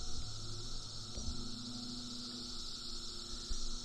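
A steady, high droning buzz of insects fills the background, constant and moderately faint, like cicadas singing in the trees.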